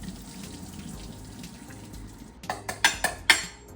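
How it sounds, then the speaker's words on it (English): Cooked orzo pasta is strained from a pot in a kitchen: a low running hiss builds into several loud splashes and sloshes of water pouring into a sink. "Just strain this pasta water out real quick."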